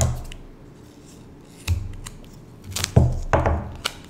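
Scissors snip through tape, several short crisp cuts and rustles close by, the last few coming in quick succession.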